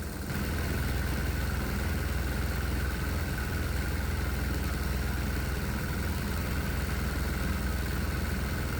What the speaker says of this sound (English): And the little diesel engine's running again.